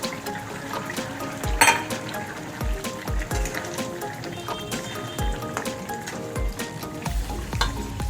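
Fried prawns tipped into a simmering cucumber curry, setting off a continuous bubbling sizzle with scattered clinks and stirring knocks against the pan, close and fairly loud.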